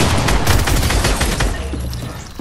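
Rapid-fire weapon in Fortnite spits a fast, loud, dense burst of gunshots that thins out toward the end.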